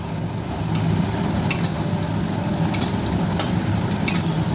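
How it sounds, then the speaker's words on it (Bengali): Bori lentil dumplings fry in mustard oil for a Bengali lau shukto, giving a steady close sizzle with faint crackles and occasional soft stirring clinks, without talk. "সর্ষের তেল নিয়েছি, বড়ি ভাজছি।"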